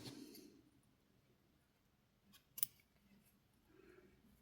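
Scissors cut a strand of crochet yarn while a small Santa outfit is being made: one crisp, close snip in near silence, with soft handling noise before and after.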